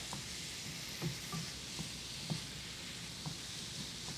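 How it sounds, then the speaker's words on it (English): Ground beef frying in a pan for a white lamb lasagna as a spoon breaks it into chunks, with a faint continuous sizzle and soft, irregular scraping taps and no talking. "I'm gonna use a spoon just to get those chunks together"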